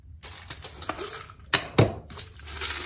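Small metal washers clink together near the mic, a few sharp bright chinks scattered over three seconds, with two louder jangles in the middle and a light rustle of handling between them.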